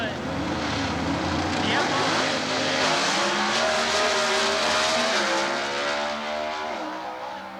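An Oldsmobile Firenza with a 289-cubic-inch engine screams down a drag strip in NHRA Competition Eliminator racing at Atlanta, a loud, sustained engine howl rising and shifting pitch, with an announcer talking over it.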